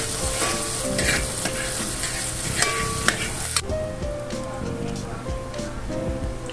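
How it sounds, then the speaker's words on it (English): Thinly chopped onions fry in hot oil in a small pan, giving a dense crackling sizzle that softens partway through as they are stirred, close and steady. "Heat oil in a small pan. Add thinly chopped onions."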